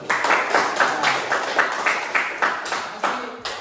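A classroom of children claps together for classmates who answered correctly, a brisk, even series of sharp handclaps in a small room, loud and steady throughout.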